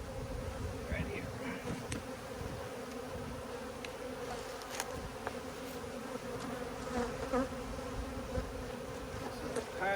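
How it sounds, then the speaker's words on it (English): A dense swarm of aggressive bees buzzes steadily and close for ten seconds, a continuous droning hum with occasional louder passes near the listener. "Meanest bees I've ever had."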